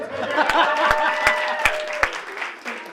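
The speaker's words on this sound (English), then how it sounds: "Can I get another pity applause?" Scattered pity applause from a stand-up comedy audience: a handful of distinct claps spaced out over a couple of seconds, with a voice talking and murmuring through them.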